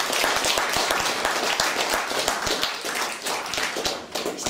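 Sustained audience applause fills the space, a dense steady patter of many hands clapping at fairly close range with no talk over it.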